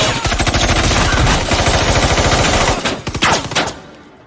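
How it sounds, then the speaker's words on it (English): Rapid bursts of gunfire from a shooter firing while moving ring out loud and close, a dense string of shots that stops abruptly and fades into echo. "Shooting while moving is I'm actually laying rounds downrange while I'm trying to get from point A to point B."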